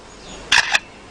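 Mimicking a motor-drive camera, a lyrebird produces a quick pair of loud, close mechanical whirring clicks against a quiet forest background.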